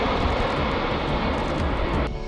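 A US Air Force Boeing E-4B Nightwatch aircraft roars with a loud, steady jet engine rumble, close and unbroken, with a slight change in tone near the end.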